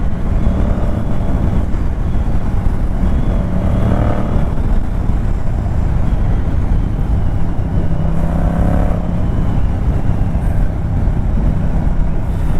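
Steady, loud engine rumble of a Yamaha MT-07 motorcycle riding along, with wind buffeting the microphone throughout and brief swells of revving.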